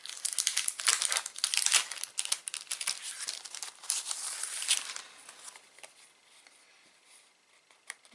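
Plastic wrapping on sticker packs crinkles and rustles up close, busy bursts of crackling that thin out toward the end, with no talking.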